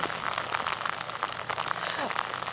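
Steady rain falling outdoors during a live news interview in severe storm weather, a dense close patter on surfaces throughout, with a voice speaking over it.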